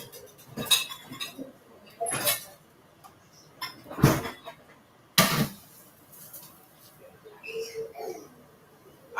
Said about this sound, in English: Take the frying pan from the dishwasher.